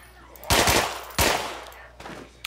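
Gunshots in the video game Contagion: two loud separate blasts with short decaying tails, followed by a fainter third report.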